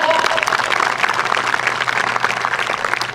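Audience applause at a school sports day, a steady broadband wash of many hands clapping for about three seconds at moderate level, with a faint low hum underneath and no clear voices.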